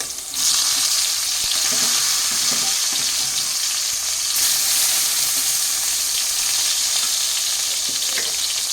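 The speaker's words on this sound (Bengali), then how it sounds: "তো এক এক করে বেগুনগুলো দিয়ে দিচ্ছি" Brinjal pieces rubbed with salt and turmeric sizzle loudly in hot oil in a pan. The frying hiss is steady and continuous throughout, close up, with no talking.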